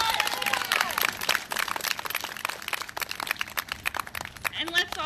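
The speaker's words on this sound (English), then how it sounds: "let's all have one more round of applause" Applause from an audience at a county rally, a broad wash of clapping and crowd noise with crinkly, uneven texture and voices mixed in near the end.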